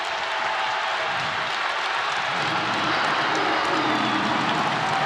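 Basketball arena crowd of several thousand standing and cheering, a dense roaring wash of voices and applause filling the whole stretch without letup.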